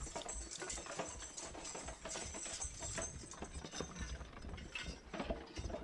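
Working horses haul a logging load on a warm summer morning, hooves clip-clopping irregularly with creaks and clanks of harness and hitch gear close by, and no one talking.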